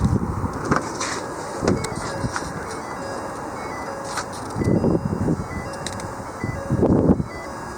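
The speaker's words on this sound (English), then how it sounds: "It's a very windy day here today." Gusty wind buffets an outdoor microphone beside a 2011 Ford F-550 Super Duty 40 ft bucket truck, with broadband rumbling bursts that swell loudly around the middle and near the end over a steady background hiss.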